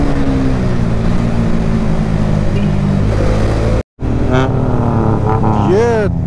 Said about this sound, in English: They sound like super bikes. They're tuk-tuk here.